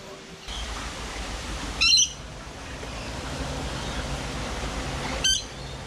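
Birds at a wildlife sanctuary give two short, harsh squawks a few seconds apart, near and fairly loud over quiet outdoor background noise.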